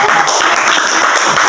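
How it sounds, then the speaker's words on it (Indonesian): A group of students claps hands together in a school group counseling session, a dense, steady burst of applause filling the room at close range with no talk over it. "Boleh tepuk tangan."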